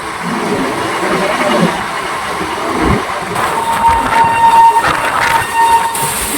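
Ganadevta Express long-distance train running non-stop, a steady rumbling roll of wheels and carriages with a faint horn-like tone partway through, continuous and fairly loud throughout.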